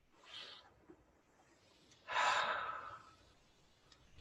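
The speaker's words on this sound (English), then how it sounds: "So take a breath." A faint inhale and then a longer, louder exhaled sigh of breath during a quiet group meditation, soft and close with low room noise.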